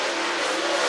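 Race cars roll around the I-75 Raceway speedway in a dense, steady roar of engines with a constant noisy rush, loud and close, no voices heard.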